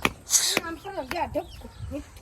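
Several chickens cluck and squawk close by in short bursts, with a loud sharp call near the start, while a person talks over them.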